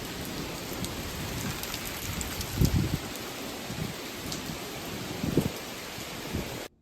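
Steady heavy rain pours on a surface through a September thunderstorm, with low thunder rumbles swelling twice amid the constant hiss before the sound cuts off abruptly.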